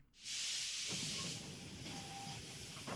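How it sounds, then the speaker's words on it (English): A steam train at a station platform in the game Code: Realize releases a loud, sustained hiss of venting steam that starts abruptly and holds steady, fading slightly as faint clanks and squeals of the stopping train come through. "an iron machine lets off steam and comes to a stop"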